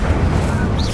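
The Incendio fire spell goes off in Hogwarts Legacy with a loud, dense burst of crashing, rumbling effect noise that fills the whole moment.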